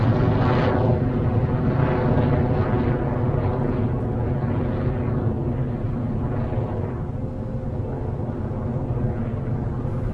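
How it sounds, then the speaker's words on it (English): A Rocket Lab Electron rocket's engines roar in a powerful, continuous low rumble during launch ascent, loud and unbroken throughout. "we have had successful liftoff of the R3D2 mission on Electron"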